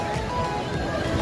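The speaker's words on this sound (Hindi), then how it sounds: "समुद्र की आवाज़ सुनते हैं और मज़ा लेते हैं कालंगट बीच का।" Continuous wash of sea waves at Calangute Beach in Goa, a steady broadband roar of surf with light wind, filling the short stretch without any voices.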